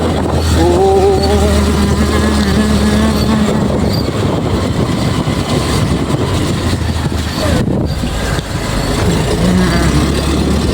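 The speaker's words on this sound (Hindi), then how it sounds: "गाड़ी स्टार्ट हो गया" A vehicle engine runs steadily on a dark night road just after starting, a loud continuous rumble filling the whole stretch, with voices briefly audible near the start.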